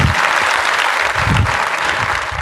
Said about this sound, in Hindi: तालियां होनी चाहिए एक बार जोरदार वाली।